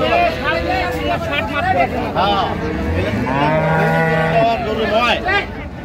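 A dairy cow moos loudly and long at a cattle market in Raniganj, Dinajpur, a deep drawn-out low call rising in pitch, with people talking and a crowd murmuring around it.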